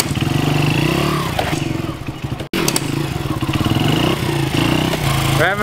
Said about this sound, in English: I'm out here trying to teach Zach wheelies on the dirt bike